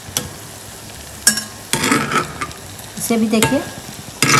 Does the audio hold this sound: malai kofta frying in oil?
yes